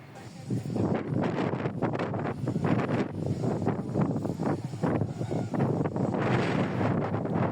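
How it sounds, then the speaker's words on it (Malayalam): Strong wind buffets the microphone in a steady, loud roar on a hilltop at the Murugan temple at Thirumalai in Tamil Nadu, with brief faint voices mixed in. "അതുകൊണ്ട് കാറ്റിൻ്റെ സൗണ്ട് വളരെ ശക്തമായിട്ട് കേൾക്കാൻ പറ്റും"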